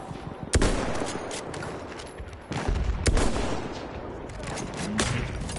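Sharp rifle shots ring out in Battlefield 1, a few loud cracks spaced apart with rumbling battle noise between them.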